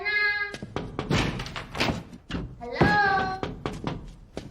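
Someone knocks on an apartment door with dull, heavy thumps, scattered among loud voices calling out nearby.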